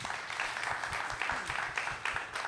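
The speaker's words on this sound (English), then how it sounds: "Let's give them all another round of applause." Light applause from a modest audience for a panel at a media event, scattered claps of uneven density over a couple of seconds.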